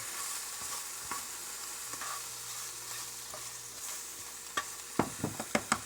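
Honey ham frying in a pan under a low, steady sizzle, with sparse utensil knocks and then a quick cluster of sharper stirring taps near the end; quiet overall with no talking.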